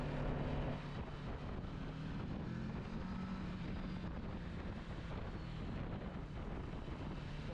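Kawasaki Versys 650 motorcycle with full stock exhaust, its engine a steady loud drone with a raspy tone, heard close while riding amid heavy wind buffeting, no voices.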